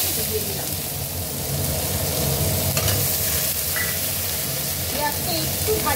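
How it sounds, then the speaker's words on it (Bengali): Chopped onion fries in hot oil in a pan with bay leaf and nigella seeds, giving a steady close sizzle with occasional stirring scrapes throughout. "পেঁয়াজটা একটু ভাজা ভাজা হবে"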